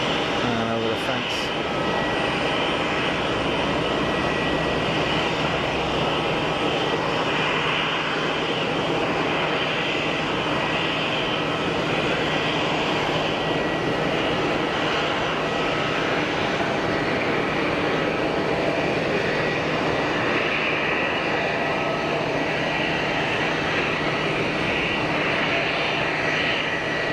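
A Turkish Airlines neo jet airliner lands at Geneva Airport, a broad continuous engine roar that holds steady and close for the whole stretch, with a voice talking over it.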